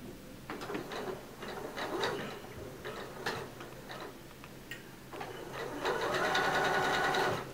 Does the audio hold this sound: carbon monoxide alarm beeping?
no